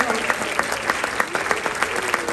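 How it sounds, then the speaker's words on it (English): Audience applause at a holiday chorus and orchestra concert, a brief, dense burst of many people clapping, steady and fairly loud throughout. "You'll stand for a second so we can give you a round of applause for helping with this"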